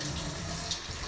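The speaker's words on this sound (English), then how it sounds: "Okay, rinsing." Water runs steadily from a bathroom tap during a face rinse, a close, even hiss with no talking over it.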